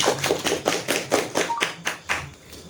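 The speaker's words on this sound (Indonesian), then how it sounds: "Tepuk tangan untuk Mas Cipto Pangat." Studio audience applause for a guest producer introduced on an Indonesian talk show: a short run of about ten crisp, rhythmic hand claps at a steady pace, close and fairly loud, tapering off at the end with no speech.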